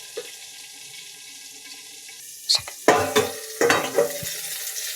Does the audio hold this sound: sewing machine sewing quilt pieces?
no